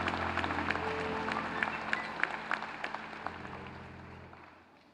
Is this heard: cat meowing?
no